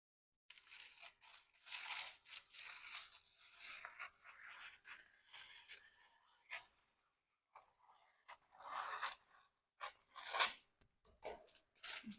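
Scissors cutting a sheet of baking paper in half, a quiet, close series of crisp snips and papery rustles with short pauses between cuts.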